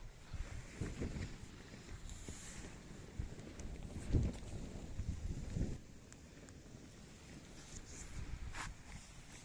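Strong wind gusts buffet an open polytunnel greenhouse in spring, with low rumbling wind noise and intermittent flapping and rattling of the plastic cover, loud and close throughout without any talk.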